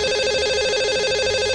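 A telephone ringing continuously and steadily at close range for a call to a caller on a Hindi call-in show, with no voices over it.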